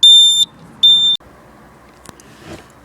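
Two loud, steady electronic beeps from a replacement indicator beeper being wired into a Jaguar XF, each lasting about half a second with a short gap, followed by faint workshop clicks and rustling.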